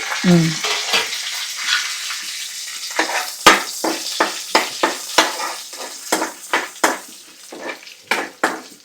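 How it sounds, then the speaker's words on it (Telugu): Tempering spices for a tomato chutney sizzle in hot oil over a low flame, a steady close fry overlaid by a quick rhythmic series of metal stirring scrapes against the pan. "ఆయిల్ వేడైంది ఫ్రెండ్స్, పోపులు వేసేసుకున్నాం."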